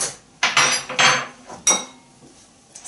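A creamy raw vegan kale sauce for pad thai mixed in a bowl, with a few loud, close clattering knocks and scrapes of a utensil against the bowl separated by brief quiet gaps.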